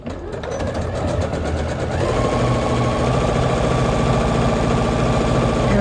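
A sewing machine stitches a fabric shoe bag close up, its rapid mechanical chatter starting slightly uneven and then settling into a steady, loud, continuous run.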